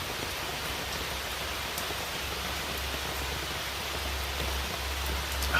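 Steady rain falls and patters while heard from beneath a shelter, a constant, even hiss with no breaks.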